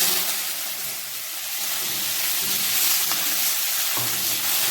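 Chopped tomatoes frying in a pan with mixed vegetables, a steady close sizzle and hiss with faint stirring clicks throughout, no voices.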